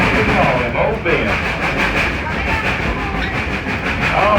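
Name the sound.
Dollywood train running on rails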